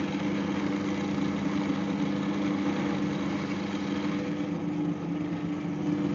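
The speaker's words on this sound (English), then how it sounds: "So I taped some fine grit sandpaper to my spindle sander here." A spindle sander fitted with fine grit sandpaper grinds on metal, giving a steady, continuous motor whir with a dense abrasive hiss that holds even and close throughout.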